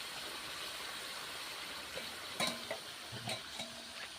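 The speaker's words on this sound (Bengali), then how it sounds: "এটাকে ভালোভাবে আমি নাড়তে থাকি" Pangas fish curry with onions, salt, turmeric and green chillies being stirred in a pan, giving a faint steady sizzle with a few soft scrapes and clinks of the spoon toward the end.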